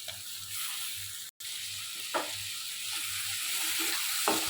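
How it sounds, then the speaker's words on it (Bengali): Salted hilsa fish sizzling in hot oil, a steady hiss of frying with a few soft clinks of stirring, close and quiet, no talking. "এখন মাছটা অনেক সুন্দর করে কষিয়ে নিতে হবে একদম ভাজা ভাজা করে ফেলতে হবে"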